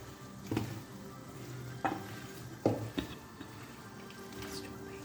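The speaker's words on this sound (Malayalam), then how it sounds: "ഇപ്പോൾ ഇളക്കി യോജിപ്പിച്ച് നമ്മളിതെല്ലാം പുരട്ടി കഴിഞ്ഞിട്ടുണ്ട്, മസാലയെല്ലാം" Meat is stirred and mixed by hand with masala for a pressure-cooker mandi, giving a few sparse wet squishes and clicks over a quiet room hum, close and without talk.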